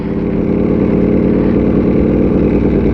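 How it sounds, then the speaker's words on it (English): Ducati Panigale V4 motorcycle engine running steadily at about 1,900 RPM while riding slowly, a loud continuous low throbbing drone with no talk. "Now you can kind of hear the bike."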